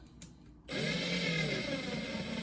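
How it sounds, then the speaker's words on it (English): A Makita XT281S impact driver starts up after a brief quiet moment and runs steadily, giving a loud, close, continuous motor whine with a sustained high-pitched tone on top. "It's so loud. I don't get it. And there's also this very high pitch wind."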